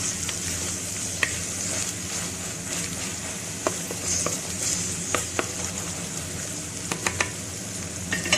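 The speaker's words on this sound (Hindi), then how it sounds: "यहाँ मेरा लहसुन प्याज जो है वो फ्राई हो रहा है मिट्टी की कढ़ाई के अंदर।" Garlic and onion fry in a clay karahi, a steady close sizzle broken by scattered clicks and taps of stirring.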